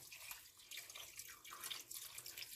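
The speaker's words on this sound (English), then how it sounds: "I'm just going to pour it over these until they're covered with" Water is poured into a pot of bones for homemade bone broth, a faint, continuous splashing trickle heard up close.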